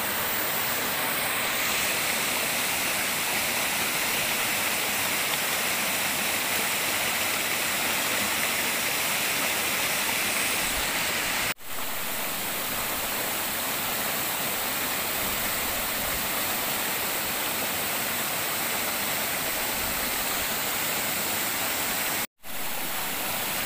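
A waterfall roars continuously, a dense, steady rush of falling water with no voices, unchanged in loudness from start to finish.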